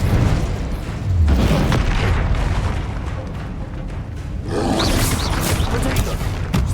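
Incendio fire spell cast in Hogwarts Legacy: a loud, sustained roaring whoosh of flame with deep rumbling, swelling again midway, over busy game sound with a voice present.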